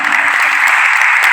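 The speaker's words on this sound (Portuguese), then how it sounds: "Palmas para Jesus." A church congregation claps together in steady, dense applause that fills the room at a constant loudness, with faint voices and low tones showing through underneath.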